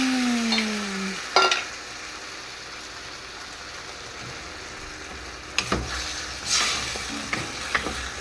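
Stir-frying in a pan on the stove, a constant close sizzle with occasional scraping stirs and clatters of utensil against metal, the frying steady throughout and a brief tone sweep at the start.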